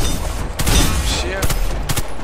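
Gunfire from a weapon in the shooter game Warface: loud, close bursts of rapid shots separated by short pauses, with reverberant tails filling the gaps.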